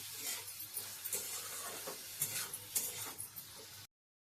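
Soya chunks fry lightly in a pan, giving a steady broadband sizzle with scattered stirring scrapes and small crackles that stops abruptly near the end, close and fairly quiet with no talking.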